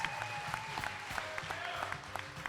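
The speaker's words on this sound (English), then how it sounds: "Can we please give our People's Choice winners a massive round of applause?" An audience at a national grand final for young innovators applauds the People's Choice winners. Steady applause with sharp individual claps runs over faint background music.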